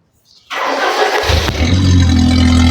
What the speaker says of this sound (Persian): بعد میای ماشین رو روشن کن